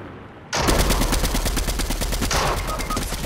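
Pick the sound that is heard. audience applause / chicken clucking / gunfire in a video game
gunfire in a video game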